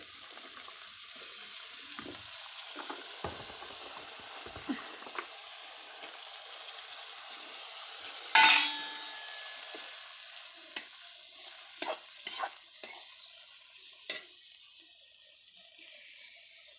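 A steady sizzle of leafy greens frying in a pan, with occasional sharp clicks and a brief loud clatter of a utensil partway through.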